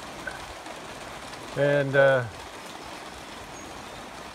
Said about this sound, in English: I really can't work in the rain